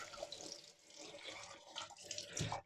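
Cold tap water running into a sink to wet a shaving brush, a steady close splashing stream that briefly thins and then swells again before cutting off.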